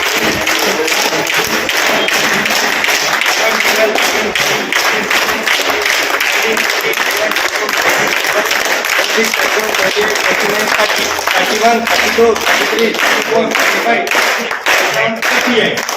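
Continuous crowd applause at a wedding anniversary celebration in a Sri Vasavi Mata temple, many hands clapping densely and loudly throughout, with a faint rhythmic tapping in the latter part.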